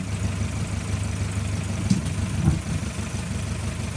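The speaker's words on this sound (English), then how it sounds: "and Sue Walker from St. Louis, Missouri, and we're driving a 1912 Buick 50 horsepower Model 43." A 1912 Buick 50 horsepower Model 43 engine idling at an outdoor car rally, a steady low rumble that holds an even level throughout with a couple of faint knocks.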